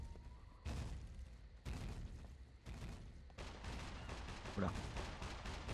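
Gunfire in the survival video game SCUM: several sharp shots, loud and fairly near, about a second apart. Someone speaks briefly between them.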